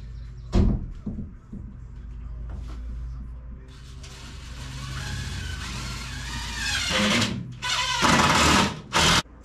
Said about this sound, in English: I'll screw them in just to keep it pulled back, and so we don't have any bowing going on.